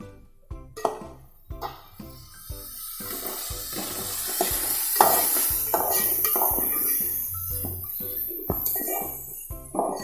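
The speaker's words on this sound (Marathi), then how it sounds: "आता मी टोमॅटो घेते, टोमॅटो परतून, टोमॅटो चांगला मेल्ट करून घ्यायचा आहे" Tomatoes and onion being sautéed in a pan for a Malvani-style mussel curry, with repeated utensil clinks and scraping over a steady soft sizzle, close and moderately loud, no talk.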